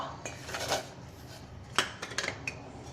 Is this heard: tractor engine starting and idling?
no